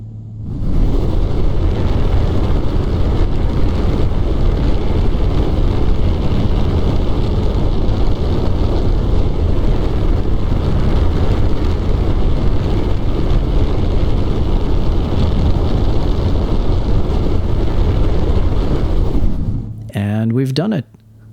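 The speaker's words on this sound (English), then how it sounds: "Align with prograde and full thrust on the main engines." Spacecraft main engines burn at full thrust in an orbital mechanics game, a loud, steady low roar holding for about twenty seconds before cutting off abruptly near the end.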